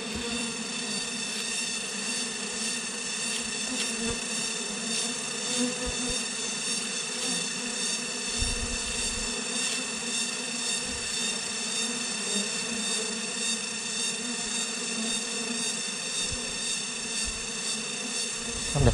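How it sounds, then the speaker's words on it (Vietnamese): Wild forest honey bees, many of them drones, swarm around a hive in a steady, dense buzzing drone that stays close and loud without pause, with a few faint low thumps underneath. "Chị nghe tiếng ong vô vậy đó"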